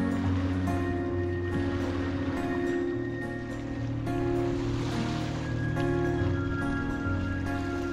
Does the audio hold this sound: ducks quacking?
no